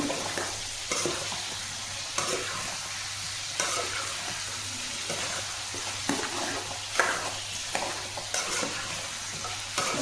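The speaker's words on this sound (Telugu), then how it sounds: "మేము ఒకసారి మళ్ళీ కలుపుదామండి మొత్తం పసుపు ఉప్పు మొత్తం పట్టేటట్టు" Cauliflower with turmeric and salt, cooked with raw chana dal, is stirred in a pan: repeated scraping strokes over a continuous low sizzle for about ten seconds.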